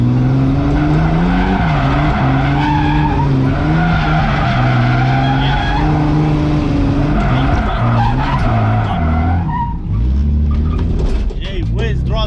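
A car drifting around corners on a track, tires squealing and skidding loudly over a steady engine roar for most of the run, easing briefly near the end; voices talk over it at times.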